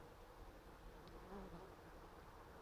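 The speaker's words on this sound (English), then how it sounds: "Certainly a lot of bees flying today." Honey bees fly at the entrance of a walkaway split hive outdoors, a faint, steady buzzing hum from many insects with no other distinct sounds.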